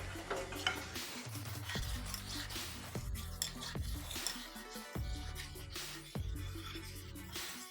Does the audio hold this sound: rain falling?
no